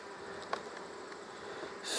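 Honey bees fly and buzz around a hive, a dense steady insect hum close by, with a louder burst of buzzing at the very end.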